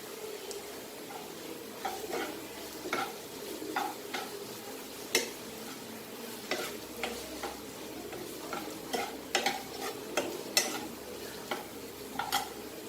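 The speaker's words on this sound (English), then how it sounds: "Few cloves of garlic and fry it well." Cloves of garlic fry in a pan with cumin, giving a low steady sizzle punctuated by repeated light clicks and taps of a spatula against the pan, close and fairly quiet without voices.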